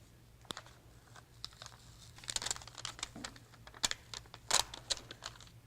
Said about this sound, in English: I'm going to peel the cereal box off and lay it with the adhesive facing up